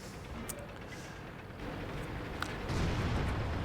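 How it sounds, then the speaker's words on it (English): A 170mm gun shell bounces off armor in a video game: a steady rumbling wash of battle noise with a short sharp crack partway through, swelling into a heavier, louder roar near the end. "And that's a bounce from a 170mm gun."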